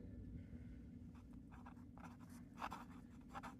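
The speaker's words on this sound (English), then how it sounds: "It's very scratchy, kind of fountain pen scratchy, I suppose I'd describe it as." A fine-nib fountain pen scratches across a sheet of paper in short, close strokes, faint and dry over a low background hum.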